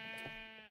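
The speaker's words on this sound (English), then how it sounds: "Pink sheep, pink sheep, pink sheep, pink sheep." A sheep in the Minecraft video game gives a single short, wavering bleat, clean and mid-loud, ending abruptly in silence.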